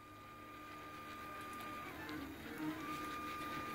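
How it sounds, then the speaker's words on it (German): A 3D printer works on a replacement part for a pleated blind, giving off a steady mechanical hum with clear stepper-motor whines and small shifts in pitch as the print head moves, with no talking. "Jetzt packen wir das Ganze mal direkt auf den Drucker und gucken,"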